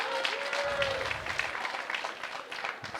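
Audience at a school opening ceremony applauding and cheering for third-year students, a steady broad wash of clapping filling the whole stretch with a brief whistle or voice rising above it.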